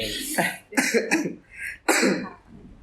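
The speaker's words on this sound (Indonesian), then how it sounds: "Maaf ya ini agak batuk" Several harsh coughs in quick succession, close and fairly loud, with short pauses between bursts.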